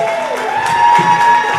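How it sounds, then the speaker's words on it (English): After a performance at a community harmony jam, a crowd breaks into loud cheering and applause, with whoops and voices mixed into the noise. "Let's give a nice round of applause."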